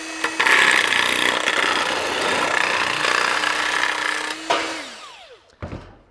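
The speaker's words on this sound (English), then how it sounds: "You can run the nibbler around these profiles." A battery-powered nibbler chews steadily through sheet metal profiles, a loud continuous buzzing rasp with a steady motor whine that runs for several seconds, then winds down and stops near the end.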